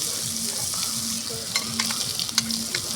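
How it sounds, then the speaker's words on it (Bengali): Chalta pickle with mustard paste, fried red chilli and spices sizzling in a pan while being stirred, a dense close hiss broken by scraping strokes of a spoon. "সরিষাটা দিয়ে ভালো করে মিশিয়ে দিচ্ছি, একটু নেড়ে চেড়ে"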